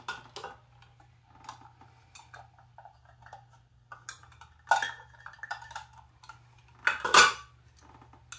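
Rummaging through kitchen utensils for a half cup measuring cup, with light metallic clinks and rattles scattered across several seconds and two louder clattering jangles, close by and with no talking.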